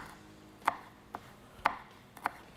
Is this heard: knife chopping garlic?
yes